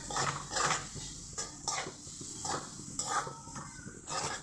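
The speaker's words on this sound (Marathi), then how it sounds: "सॉफ्ट होऊस्तोवर कांदा परतून घ्यायचा" Onions being sautéed in a pan until soft, with repeated bursts of spatula scraping and stirring over a soft sizzle, in rhythmic strokes roughly every second, close and fairly loud.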